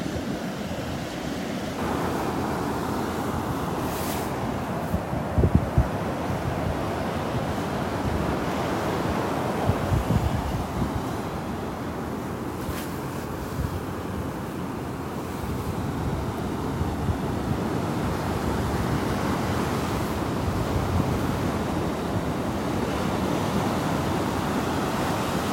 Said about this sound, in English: Going to be walking more into the wind now